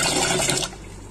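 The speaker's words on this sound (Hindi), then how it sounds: "इतना पानी डालेंगे इसमें।" Water is poured into a Sistema microwave rice steamer holding rice, making a loud rushing, splashing pour for about half a second before it cuts off to a quiet trickle.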